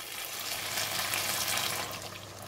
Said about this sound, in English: I'm going to add in a bit more water.